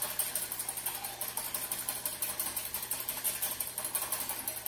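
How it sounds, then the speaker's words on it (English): A hand whisk beats the egg-based mixture for cheese biscuits in a bowl, giving a fast, steady run of rhythmic scraping strokes, close and fairly loud, with no talk. "So the whisk, you're going to give this a really good whisk."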